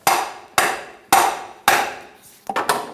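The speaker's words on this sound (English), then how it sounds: "So I'm going to just take a hammer and tap it." Five sharp metallic hammer taps on the center driveshaft of a 2013-2018 Toyota RAV4 2.5L ring out at a steady pace, each decaying quickly, the last two coming in a quicker cluster.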